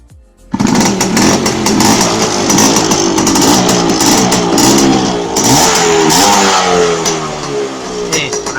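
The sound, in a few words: Yamaha Y100 Sport motorcycle engine started and revving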